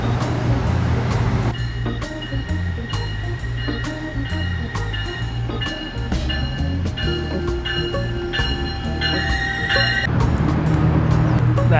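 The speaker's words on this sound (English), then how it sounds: "That's my train right there." A train rumbles and squeals as it pulls in, low mechanical rumble with metallic screeching tones rising and falling, close and fairly loud.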